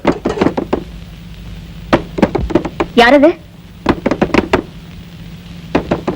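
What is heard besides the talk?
knocking on a door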